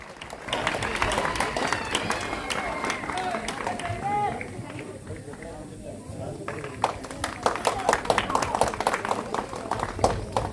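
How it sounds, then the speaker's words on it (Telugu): A hall audience at a prize announcement gives loud, sustained clapping and cheering, a dense crowd wash that dips slightly midway before swelling again, with a voice talking over it. "క్లాప్స్ కొట్టండి బాగా."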